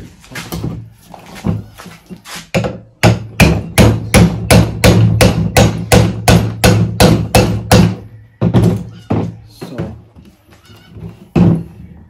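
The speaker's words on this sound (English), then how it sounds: "I'm gonna just tap it in with a socket nice and slowly." Steady series of metal hammer blows driving a clip in through a socket on a Dodge Ram 1500 front end, about twenty sharp close strikes in bursts with brief pauses between groups.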